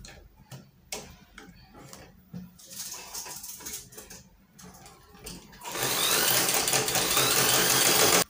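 A sewing machine stitches a seam on a child's ball dress, with scattered ticking and handling at first, then a steady, loud, continuous whirring run over the last few seconds.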